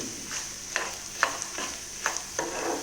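Spices crackle and pop in hot sesame oil over a soft sizzle, with several sharp bursts spaced irregularly, close by and fairly quiet.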